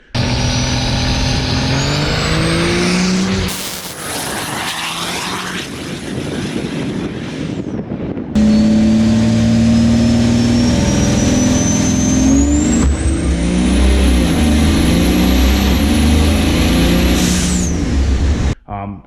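A Cummins diesel drag truck with a hood stack exhaust launches and revs hard, its loud engine roaring and climbing in pitch through two long pulls, with a turbo whistle rising over the rumble.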